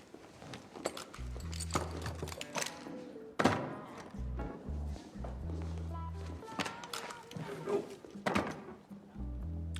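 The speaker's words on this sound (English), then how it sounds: "all your weapons on the table" Heavy firearms are set down one after another on a table at a sheriff's deputies' weapons check, giving scattered dull thunks and thuds amid shuffling and movement, with brief talk in the background.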